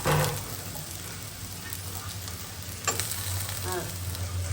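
Tomatoes frying lightly in a little oil for a Bangladeshi eggplant and dried-fish curry give a steady, soft sizzle throughout, with a few faint scraping stirs of a spatula in the pan.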